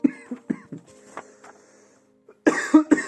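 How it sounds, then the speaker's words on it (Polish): Several short, harsh coughs in quick succession, a quiet pause, then another cluster of louder coughs close to the listener. "Przepraszam, ale kaszle mnie jeszcze tutaj."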